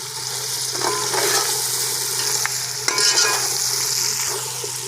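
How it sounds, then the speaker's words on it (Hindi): Cumin and mixed dry fruits fry in a pot of oil for Peshawari chana mewa pulao, giving a steady, close sizzle with faint stirring scrapes and a few brighter crackles throughout. "सफ़ेद ज़ीरा शामिल करने के बाद हम इसको थोड़ा सा भूनेंगे।"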